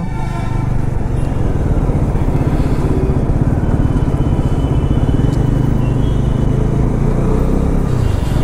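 A Bajaj Pulsar NS400Z motorcycle riding on an open road, its engine giving a loud, steady, throbbing drone over constant wind rush, with no voices.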